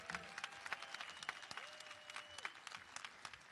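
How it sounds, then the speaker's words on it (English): A crowd at a 2024 high school commencement ceremony gives a steady round of applause, dense clapping at moderate distance with a faint tone humming underneath. "give Mike Richter a round of applause"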